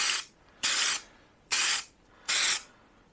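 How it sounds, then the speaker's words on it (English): Four short bursts of spray paint hiss from a can in quick, even succession, each lasting about a third of a second, close and fairly loud, as a light coat of British racing green goes onto the body of a Jaguar XJ6. "We'll just do a light dust coat, like that"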